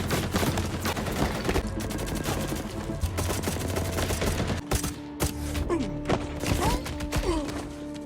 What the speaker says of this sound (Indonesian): Mendengar suara tembakan itu, Garza bergegas menghubungi bala bantuan yang lebih banyak.